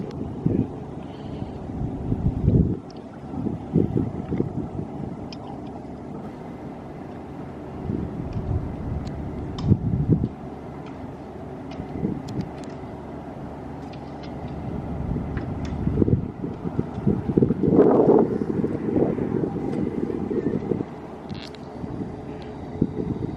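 Strong wind buffets outdoors beside the flooded Mississippi River in New Orleans, with gusty, uneven rumbling from wind hitting the microphone and faint, distant traffic or engine noise underneath.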